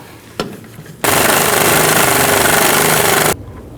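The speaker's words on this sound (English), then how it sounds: "Take that nut off and you can slide that out." An impact tool spins a 14mm socket to remove a sway bar link nut on a 2004-08 Infiniti G35, giving a loud, continuous rattling burst of about two seconds after a brief tap, heard close up.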